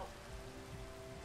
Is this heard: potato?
no